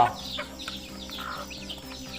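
Young chicks about five days old peep and cheep in a pen, a steady run of soft, high chirps close by with low farm noise underneath.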